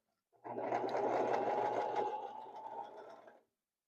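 Sewing machine stitching along the top edge of an original denim jeans hem, a steady close whirring run of about three seconds that eases off slightly before stopping, with no talking.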